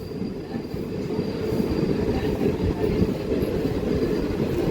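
A DEMU local passenger train runs along the rails, giving a loud, steady low rumble with continuous clattering of wheels on track from inside the coach.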